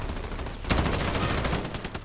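Gunfire in the video game Call of Duty: Modern Warfare, a loud sustained burst of rapid automatic shots that intensifies sharply partway through and continues as a relentless rattling stream.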